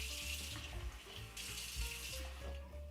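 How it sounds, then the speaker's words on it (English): Lukewarm water pours steadily, a continuous close rush and splash like water running from a tap into a vessel while making Jamaican cocoa tea hot chocolate, with no talking. "I'm going to add some lukewarm water to this."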